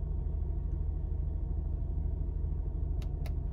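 A Mercedes engine runs at about 1500 RPM in economy mode, a steady low rumbling hum with a couple of light clicks near the end.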